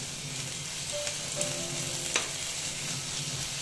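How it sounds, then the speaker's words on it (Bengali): Ginger-garlic paste fries in a pan with oil, a steady close sizzle throughout, broken by a couple of brief spoon clinks and scrapes. "দিয়ে আবার আমি অল্প ভেজে নিচ্ছি, যাতে গন্ধটা চলে যায়।"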